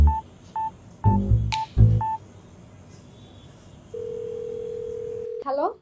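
A cheap mobile phone is dialed: a quick run of distinct keypad tones with a brief voice at the start. A steady, loud dial or ring tone then holds for over a second before cutting off.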